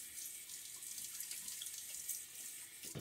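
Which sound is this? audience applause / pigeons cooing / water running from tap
water running from tap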